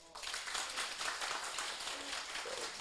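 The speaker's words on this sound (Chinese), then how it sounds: "大家鼓掌一下。" Audience applause at the closing of a three-day study session in Taiwan, a faint, brief round of clapping with a few voices underneath.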